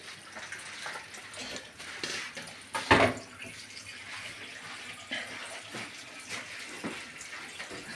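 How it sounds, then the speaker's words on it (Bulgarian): Bottles fill with water flowing from a Kangen water machine, a steady soft rush of running water with one brief louder splash partway through, and no talk. "Аз през това време ще си сложа бутилките да се напълнят."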